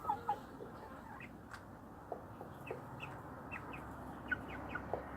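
A young rooster from a recent hatch, about nine weeks old, makes soft, quiet clucks and short chirps at irregular intervals over low background noise.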